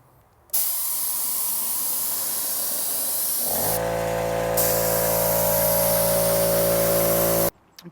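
A paint sprayer spraying stain starts with a sudden loud hiss that holds steady, then a motor hum with a tonal whine joins in before both cut off abruptly.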